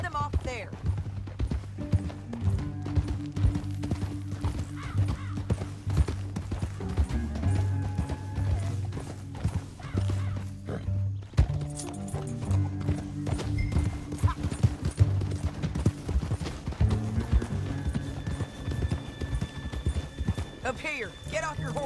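Horses' hooves clip-clopping across terrain in Red Dead Redemption 2, with occasional whinnies and steady rhythmic footfalls running continuously under game dialogue and ambient sound.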